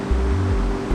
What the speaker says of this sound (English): we could hear the sound of the river growing louder